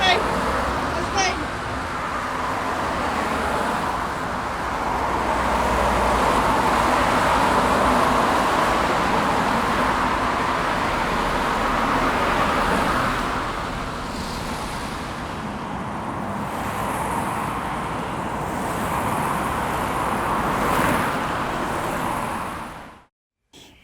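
Steady road traffic rolling past in a continuous wash of car and vehicle noise close by, with no distinct single pass-bys.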